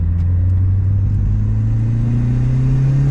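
A VW Golf 2 with a 1.3 turbo engine revs at full throttle, a loud, steady low drone with the pitch climbing slowly over three seconds, heard close and alone.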